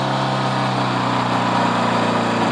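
A 1986 Honda Goldwing GL1200 SE-I engine held at about 4,000 RPM, a steady, loud hum with a strong low drone and a buzzy mid tone, suspected of a bad coil.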